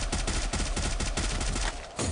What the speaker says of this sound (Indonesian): ada suara tembakan dari Gibbs AW 5